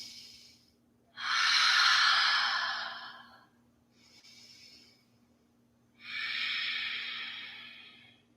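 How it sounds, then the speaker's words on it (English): Slow, deep breathing during a yoga pose, alternating soft inhales and longer, fuller breathy exhales, four breaths in a calm even rhythm, close and clear over a faint low hum. "Deep breaths here."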